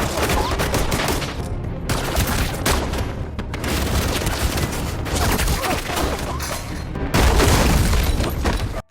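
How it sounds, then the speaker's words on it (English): Sustained gunfire exchange during a chase through a theater in a movie scene: dense, loud volleys of rapid shots and booms rattle continuously for nine seconds, with a heavier burst near the end. "A chase begins through the theater and both sides open fire"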